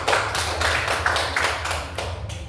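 A group of people clapping together, steady applause in a classroom lasting a few seconds.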